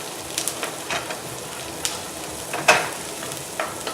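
Onions frying in butter with a little olive oil, salt and pepper for taco meat: a soft, steady sizzle with occasional crackles and stirring clicks, close and fairly quiet, with no talking.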